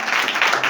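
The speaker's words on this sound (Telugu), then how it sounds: "చప్పట్లు కొడతారా?" Brief burst of audience clapping at a church fasting prayer meeting, a dense, steady patter of many hands close by that fills the whole moment without any voice over it.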